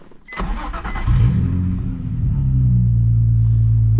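A Nissan 350Z engine cranks and catches, rising into a loud, steady idle rumble close by, with no talking.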